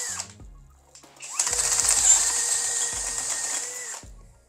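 A FortG brushless drill driver, set to drilling mode, bores a hole with a stepped bit: a steady high whine rises for about three seconds between short clicks and thumps, loud and close, with no talking.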